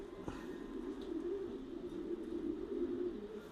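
Racing pigeons in a loft cooing softly and continuously nearby, a low rolling coo while a hen pigeon broods her eggs, with a faint click early on and no talking.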